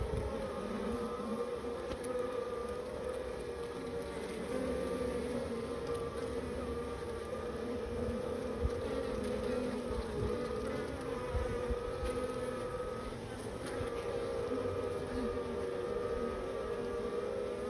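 Honeybees hum in an opened hive during an inspection, a dense continuous buzz at steady loudness that stays close throughout with no speech.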